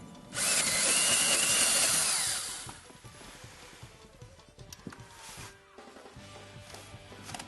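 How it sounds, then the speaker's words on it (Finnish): A 51 mm hole saw drills a hole during a Wallas cabin stove installation, a loud close whine for about two seconds, then stops, followed by scattered clicks, knocks and handling noises. "Ja sama homma toistetaan imuletön reijälle, joka porataan 51 mm kuppiterällä."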